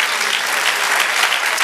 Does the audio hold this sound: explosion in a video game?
no